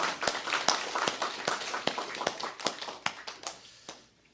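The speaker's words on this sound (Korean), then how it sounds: "하나님께 영광의 박수 올려드리겠습니다." A church congregation clapping together in a steady, even rhythm of sharp claps, around a dozen beats that thin out and fade toward the end.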